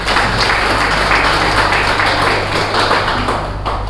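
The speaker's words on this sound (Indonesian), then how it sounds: "Saya minta kita semua tepuk tangan dulu." Applause fills a hall as an audience at a Lembata promotional gathering claps together, a steady dense wash of many hands lasting throughout with a constant low hum underneath.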